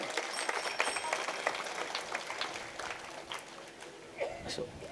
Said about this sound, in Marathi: या सर्वांकरता एकदा सर्वांनी जोरात टाळ्या वाजवायच्या